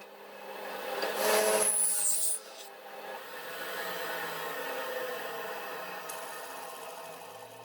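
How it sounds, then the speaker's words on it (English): A drill bit bores a hole with a steady whirring grind that is louder at first, then eases into a lower continuous drone, with no talking. "Yes, it delivers a hole, but even then I can feel the drill bit is heating up."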